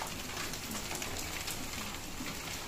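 Heavy rain pouring steadily in a village during hot weather, a dense even hiss of thick drops drumming on surfaces, loud and continuous with no voices.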